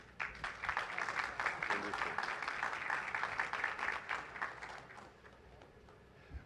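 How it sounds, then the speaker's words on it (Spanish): An audience applauds speaker Tekla at an energy-transition and maritime-transport event, giving continuous, even clapping that sounds fairly distant and soft, holding steady for several seconds before easing off. "Por favor, un aplauso para Tekla."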